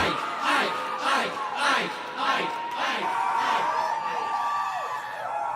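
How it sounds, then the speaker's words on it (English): A crowd chants a name in a steady rhythmic pattern, about ten loud repeated calls in a regular beat, close and energetic, with voices blending into a single roaring chant. "The crowd begins to chant his name."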